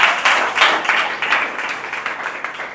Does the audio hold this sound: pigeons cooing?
no